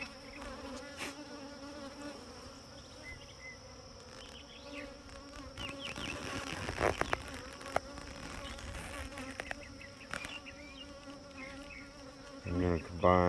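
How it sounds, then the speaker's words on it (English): Bees buzz around a beehive feeder, a steady close swarm drone with occasional louder passes and some brief clatter near the end. "I think we got a bee climbed in there sleeping."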